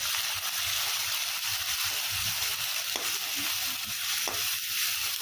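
Ginger paste sizzles in a hot pan, a steady close frying hiss with faint stirring scrapes throughout and no talking.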